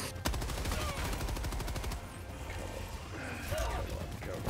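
Rapid video game gunfire rattles in quick repeated bursts over the first two seconds, loud and close, then gives way to mixed rumbling game noise with scattered further shots.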